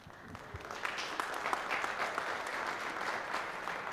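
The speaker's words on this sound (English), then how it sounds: "get your hands ready to clap. You clap for this every time." An audience claps at a school district's State of the Schools event in Strongsville, a steady, fairly faint wash of applause from a crowd that lasts the whole stretch without voices.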